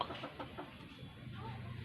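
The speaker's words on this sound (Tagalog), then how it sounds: "dalawang lalaking manok" Two roosters among chickens in a provincial coop, giving soft, low clucks in a loose rhythm, faint and close, with a quiet background.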